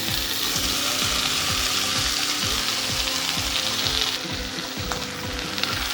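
Leftover chapathi pieces frying in a pan over low heat, with a steady loud sizzle and a regular scraping and clinking of a spoon stirring, without speech.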